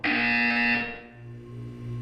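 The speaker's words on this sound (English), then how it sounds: "When you hear the buzzer, look down at the floor." A buzzer from the Portal 2 video game sounds once, a loud, harsh electronic buzz held for under a second before cutting off into a faint fading hum, with no voices.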